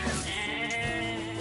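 Goats bleating in the video game Nier: Replicant, a sustained wavering bleat close and loud over quiet game ambience.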